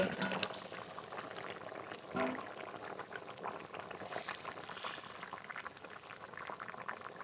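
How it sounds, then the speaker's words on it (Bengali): Curry gravy with katla fish and potatoes bubbling at a strong boil, a continuous close burble of popping bubbles with brief liquid sloshes, no voices over it. "এবার ভালো করে ফুটিয়ে নেব ঝোল খুব ভালো করে ফুটে গেছে"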